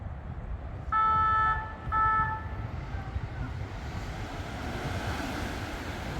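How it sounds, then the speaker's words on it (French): A fire engine siren sounds as firefighters set off urgently on a call: two short, loud tonal blasts, then a fainter trailing tone, over steady wind and surf-like outdoor rumble. "Ça y est, les pompiers s'en vont en urgence."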